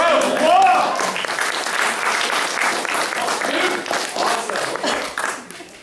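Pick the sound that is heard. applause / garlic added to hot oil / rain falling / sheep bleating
applause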